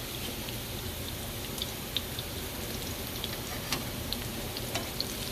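Salmon cakes frying in a pan with a steady, close hiss and occasional small pops and ticks, heard alone with no talking.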